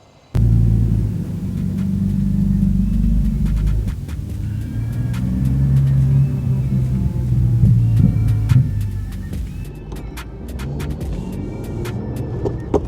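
A modified 1990s BMW E36 328i cruising on a potholed road, its engine giving a steady, deep, close rumble inside the cabin with a few knocks and rattles from the road, and no talking.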